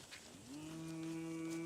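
On a cattle farm, a cow lets out a single drawn-out moo that rises and then holds steady as a low, tonal call, heard fairly clearly over faint outdoor background with no talking.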